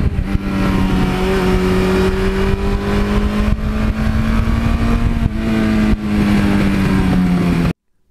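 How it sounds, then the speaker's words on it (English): 1982 Suzuki GS1100E motorcycle engine runs steadily with a slowly rising hum and a brief lift in pitch, close and loud with no talk, cutting off abruptly at the end. "I just never get sick of that engine."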